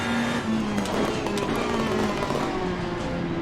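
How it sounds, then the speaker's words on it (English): Race car engine in Assetto Corsa Competizione at Brands Hatch, a continuous loud engine drone with crackling pops and bangs scattered through it, steady and close throughout. "the pops and bangs of the engine is absolutely fantastic"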